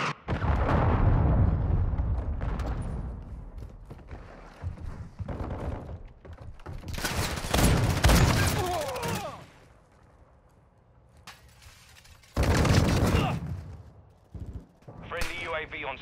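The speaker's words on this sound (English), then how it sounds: "Friendly cruise missile approaching target." Cruise missile strike and gunfire in Call of Duty combat: loud rumbling blasts and crackling shots come in heavy bursts, break for a quiet lull, then erupt again, with voices talking over the fighting.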